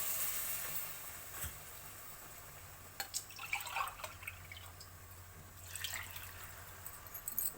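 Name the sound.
pouring coconut milk into pot for coconut rice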